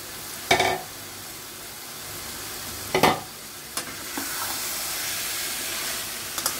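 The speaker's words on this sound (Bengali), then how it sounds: "এবার দিয়ে দেব মাংসটা, মানে পর্কের মাংসটা।" Pork meat frying and sizzling in a pan, a steady hiss broken by a few louder stirring bursts and scrapes, with no voices.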